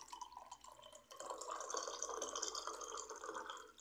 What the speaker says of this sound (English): We'll pour a little bit more green tea